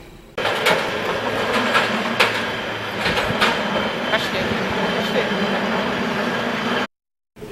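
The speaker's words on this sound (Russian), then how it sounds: "Появился канатный трамвайчик." San Francisco cable car rolling on its rails up the city's hills, a steady close rumble with clicks and metallic clatter throughout, ending in a brief cutout; faint voices may mix in.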